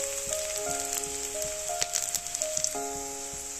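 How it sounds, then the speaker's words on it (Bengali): Onion frying in oil in a pan for an egg and potato dish, giving a steady, close sizzle with bright crackle throughout, while faint tonal background sounds drift underneath. "পেঁয়াজটা আমি একটু লাল লাল করে ভাজা করে নেব।"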